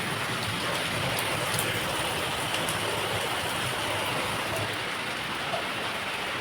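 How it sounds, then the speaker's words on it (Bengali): Heavy rain pours down steadily outside a house, a dense, even hiss of falling water that never lets up, with no voices present. "ঝমঝমিয়ে বৃষ্টি হচ্ছে"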